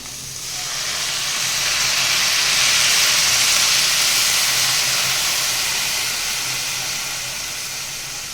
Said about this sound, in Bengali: এবারে দিয়ে দেবো জল। আঁচটা একটু বাড়িয়ে নিই, কম আঁচে যেহেতু কষিয়েছি, আঁচটা বাড়িয়ে তারপরে জলটা দেব।